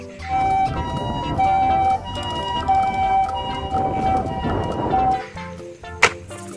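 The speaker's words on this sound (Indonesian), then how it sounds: "Wah, lihat. Ada mobil ambulans." A toy ambulance siren wails in a steady repeating two-tone pattern, loud and close, ending with a sharp click.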